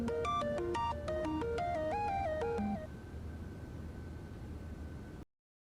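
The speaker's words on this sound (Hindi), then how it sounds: "जरा फोन उठाना," A telephone rings in a home drama scene with a melodic ringtone: a quick run of bright electronic notes repeats for a few seconds, then one held tone continues. It is faint and heard alone over a soft hiss, with no voices.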